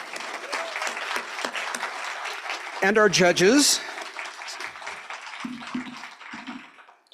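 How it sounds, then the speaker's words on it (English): Sustained applause from the audience at a statewide Three-Minute Thesis competition, honoring competitors and judges. Dense clapping fills the room throughout while a host speaks over it. "So one more round of applause for the competitors"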